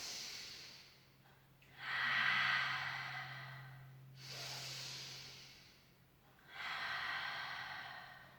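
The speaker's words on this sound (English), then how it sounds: "take a big breath in." Deep audible breathing during a Pilates class, with long hissing inhales and exhales through the nose and mouth that come in three slow waves, close and with no talking.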